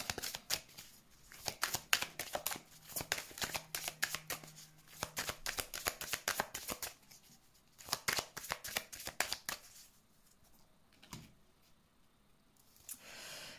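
A deck of tarot cards is shuffled for a reading in quick, close riffling bursts, with short pauses between rounds and a soft tap near the end.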